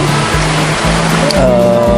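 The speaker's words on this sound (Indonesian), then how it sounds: "Ini lagi hujan lagi di dalam tenda." Rain falling on an Arpenaz 6.3 family camping tent, heard from inside as a loud, continuous hiss, with a steady low hum and faint voices beneath it.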